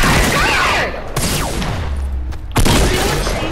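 Gunfire in Fortnite, a loud burst of rapid shots and impacts with sharp cracks at the start and again near the end, around a brief lull.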